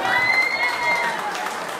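Applause and cheering from a crowd at a circumcision ceremony in Offenbach am Main, a brief, fairly loud wash of hands and voices with a sustained tone over it.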